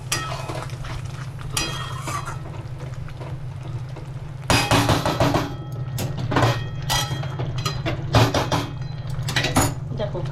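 Metal lid lifted off a pot of simmering prawn and pointed gourd curry, a sharp clatter and rattle midway through over a steady low stove hum, followed by scattered clinks of cookware.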